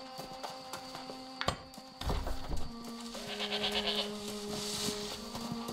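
Sheep bleating in the video game New World, a wavering animal cry over a droning game soundtrack with scattered clicks and ambient effects.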